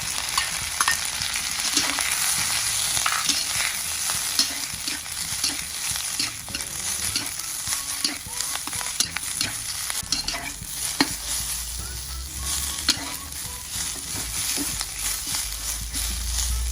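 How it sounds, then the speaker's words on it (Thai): Napa cabbage being stir-fried in a pan after minced garlic, with a steady loud sizzle and frequent scraping, clattering stirs throughout; no voices. "เสร็จแล้วนำผักกาดขาวลงไปผัดนะครับ"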